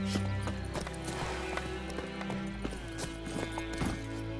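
Roach, the horse in The Witcher 3, gallops in a quick, steady clip-clop of hooves with a brief whinny near the start, loud and close over a low in-game musical drone.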